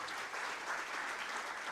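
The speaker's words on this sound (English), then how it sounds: "we should all give a big round of applause to AVIS and Vaani" A live audience applauds steadily, a dense, even wash of many hands clapping at once, heard from within a large room and sustained throughout without a break.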